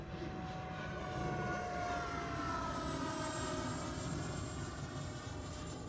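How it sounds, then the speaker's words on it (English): A Flyfans K8 Karakorum 80mm electric ducted-fan RC jet flies at full throttle, a steady rushing whine with a sweeping tone that shifts as it passes, moderately distant and continuous with no talk. "It really does have that fuselage noise where the intakes are sucking in that air and it's just reverberating throughout the inside of the fuselage, and it sounds amazing"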